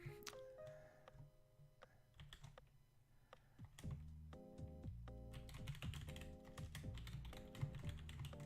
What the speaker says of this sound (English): Let me tippy type to you real quick.